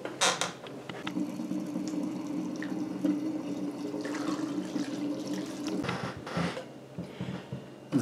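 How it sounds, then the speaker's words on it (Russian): Raw spirit poured through a small funnel onto wheat and rye grain, a continuous close liquid trickle and gurgle with faint creaks and clinks, no talking. "Дальше берем спирт-сырец и заливаем это дело."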